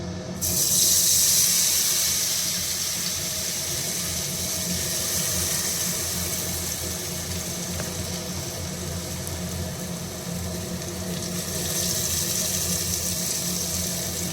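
Moong dal pakodis sizzle in hot oil, a steady broadband hiss with a bright crackling wash that swells at the start and again near the end, loud and continuous without talk.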